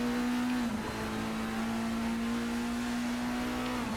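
A prototype-style race car in Project Motor Racing accelerates steadily, its engine a loud continuous drone holding a strong steady tone with a brief dip near the start, heard close and alone.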